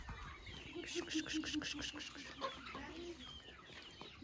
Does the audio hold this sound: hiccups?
no